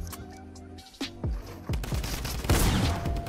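Gunfire in the Fortnite video game: a few separate sharp shots followed by a dense, loud volley of rapid automatic fire, close and intense.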